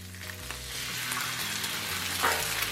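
Two eggs frying on a hot flat-top grill, a steady close sizzle and crackle running throughout with no voices over it.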